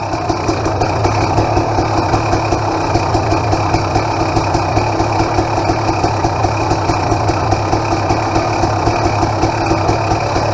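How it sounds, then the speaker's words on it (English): A KTM XCW300 two-stroke dirt bike engine with a new spark plug runs close and loud at a steady idle, with a rapid, even ticking pulse throughout. "starts right up. New spark plug. You can hear the difference."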